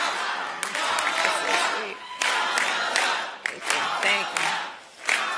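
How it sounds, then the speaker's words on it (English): A political rally crowd applauds and cheers in surging bursts, clapping mixed with shouts and whoops that swell and dip, fairly close and loud. "To all of us, applause to all of us."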